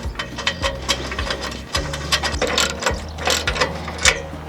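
A ratchet clicks rapidly while a bolt is snugged on a roof rack, brisk repeated strokes of close metallic pawl chatter with short pauses between bursts.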